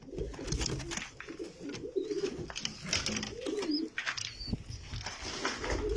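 Rahma pigeons, a breeding stock of cocks and hens, coo close by in repeated low, throaty rolling phrases, overlapping one another in a dense, continuous flock chorus with occasional wing flutters.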